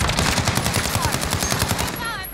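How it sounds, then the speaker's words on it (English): Rapid automatic gunfire rattles in a Warzone Rebirth Island match, a dense burst of close shots with a few distant pops, fading near the end. "Who's shooting at you?"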